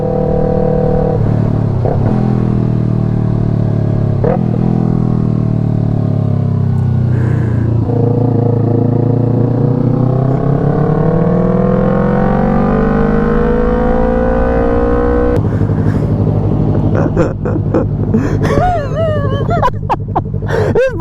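A Yamaha sport motorcycle engine drones steadily, then climbs slowly in pitch for a long stretch before an abrupt change to sharper, rising revs, loud and close throughout.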